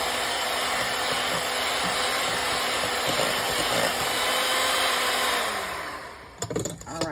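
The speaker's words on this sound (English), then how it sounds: "Just blending this until it's smooth." An electric blender runs loud and steady through nectarine gooey butter cake filling, then winds down near the end. A voice starts speaking over the fading motor.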